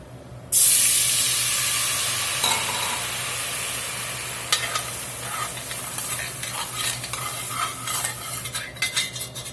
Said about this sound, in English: Go in with about a 1/4 cup of dry white wine, deglaze this pot